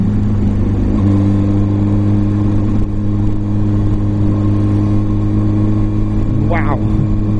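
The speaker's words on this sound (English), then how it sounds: "Sounds so sweet. How can you not love a CBR 600?" A Honda CBR 600 motorcycle engine runs close by with a steady, droning hum that holds an even pitch throughout, with no clear rise in revs.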